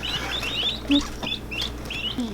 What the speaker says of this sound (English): Guinea hens. It's a guinea.